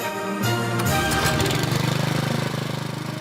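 Petrol lawn mower engine cranks and fires, then settles into a loud, steady, pulsing run close by, with no one speaking.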